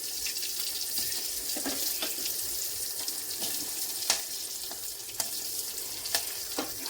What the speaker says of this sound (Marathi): हिंग झाला की त्याच्यावरती ज्या मिरचीचे 2-2 तुकडे करून घेतले आहेत ती मिरची